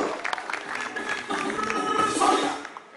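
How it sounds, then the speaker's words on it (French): Audience clapping at a holiday club evening show at Club Lookea Baobab, a steady crowd applause of moderate loudness lasting several seconds, with some voices mixed in, fading toward the end. "on peut l'applaudir un peu plus fort"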